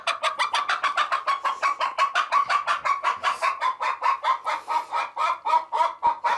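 A disturbed hen clucks in a quick, steady run of sharp, evenly spaced calls, loud and close, continuing without pause and with no talking.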